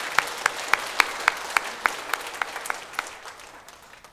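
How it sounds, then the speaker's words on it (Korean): A church congregation at Sunday morning worship claps in celebration, the sharp claps falling in a fairly regular rhythm that gradually softens and thins out toward the end. "우리 한번 다시 크게 축하의 박수를 드리겠습니다."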